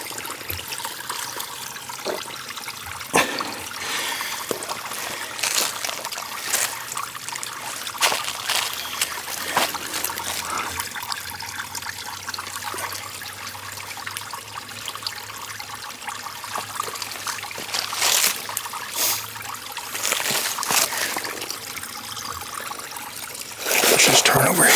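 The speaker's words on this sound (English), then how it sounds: "Another little stream here." A small stream of water trickling along the Duck River Trail on a hike, a steady close babble and splash running throughout, broken by scattered louder drips and rustles.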